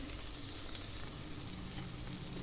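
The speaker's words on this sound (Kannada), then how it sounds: "ಈ ಥರ ಇದು ಕಲರ್ ಚೇಂಜ್ ಆಗುತ್ತನ್ನ ಫ್ರೈ ಮಾಡ್ಕೋಬೇಕು" Ingredients for a paneer gravy fry in a pan with a steady, even sizzle that stays constant for the whole stretch, close and moderately loud, with no talking.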